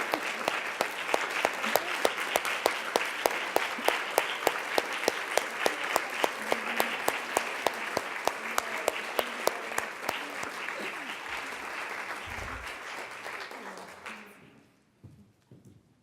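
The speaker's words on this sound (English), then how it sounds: "give them a final round of applause" An indoor audience applauds a family panel at a leadership conference, sustained loud clapping with a rhythmic beat running through it before it fades out to near silence at the end.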